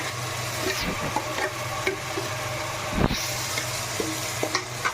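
Onion paste and green chillies fry in oil for a prawn malai curry, giving a steady close sizzle with scattered stirring scrapes and one louder clatter near the middle.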